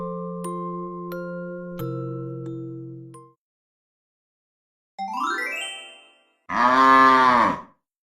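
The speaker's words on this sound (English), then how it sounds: "Yes, it's a cow." A cow gives one full, loud, close moo near the end, preceded by a shorter rising call. Earlier there are bright chime tones and a pause, with no talking.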